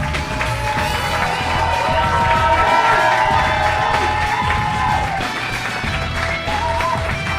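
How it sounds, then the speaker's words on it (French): A studio audience at a French comedy show claps and cheers steadily for the arriving team, a dense, loud crowd roar with whoops that holds for the full stretch. "On les applaudit tous."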